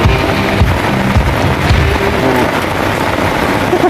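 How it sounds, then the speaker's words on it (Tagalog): Heavy rain pours down steadily during fishing, a dense, loud hiss of drops pattering on surfaces close by with no voices. "lakas ang ulan"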